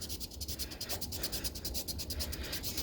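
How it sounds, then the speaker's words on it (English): A rag soaked in 70% isopropyl alcohol is rubbed briskly back and forth over the dirty cork handle of a Bronson 63 fishing reel, making fast, rhythmic scrubbing strokes, close and steady with no speech. "And you just rub that dirt right off."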